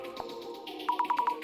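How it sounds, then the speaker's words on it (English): A phone call placed in the video game Urban Myth Dissolution Center: after a soft low hum, a rapid run of five short electronic tones chirps in a steady rhythm, fairly quiet and with no voices. "You can call him from your phone."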